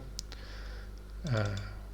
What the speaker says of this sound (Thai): ทำการดับเบิลคลิกเมาส์นะครับ